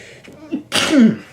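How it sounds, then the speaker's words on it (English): A single sharp sneeze bursts out after a brief inhale, loud and close, with a short breathy tail. "Excuse me, that was a sneeze."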